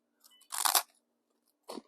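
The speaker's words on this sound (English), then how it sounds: "That's one heck of a crunch." A freeze-dried grilled cheese crouton crunches loudly in the mouth up close, one sharp brittle bite followed by a softer crunch of chewing a moment later.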